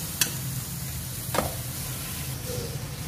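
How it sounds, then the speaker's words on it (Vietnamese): A salmon head being added to fried shallots in a pot for braised salmon head, with a low, steady sizzle and a couple of brief utensil knocks, without any talk. "Mình sẽ cho đầu cá hồi vào"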